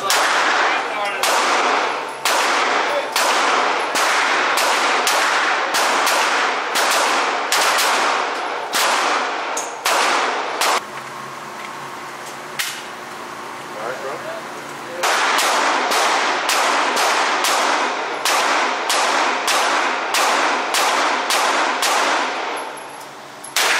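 Pistol fire at an indoor gun range, rapid loud shots in quick bursts with a short pause midway, each crack sharp and close, then another fast string of rounds.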